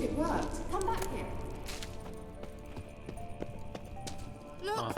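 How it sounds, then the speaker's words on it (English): Kelpie, a horse in The Witcher 3 video game, clops its hooves and lets out a whinny at the start and again at the end, over steady game ambience and music. "Kelpie. Another horse. Almost exactly like the last one."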